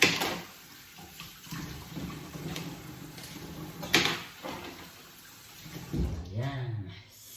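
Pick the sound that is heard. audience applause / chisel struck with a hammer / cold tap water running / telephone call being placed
cold tap water running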